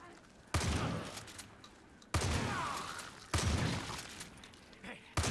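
Bursts of rapid hip-fired gunfire in Far Cry 5's Dead Living Zombies mode, three long loud volleys with short gaps between them, close and dominant, with faint talk underneath.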